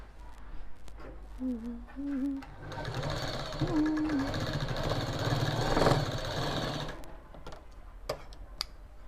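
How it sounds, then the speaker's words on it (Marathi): A sewing machine runs in a steady mechanical whir while stitching fabric for a latkan tassel, starting and stopping across the stretch, with a voice speaking over the early part. "याच्यावरती आपण शिलाई देऊन घ्यायची"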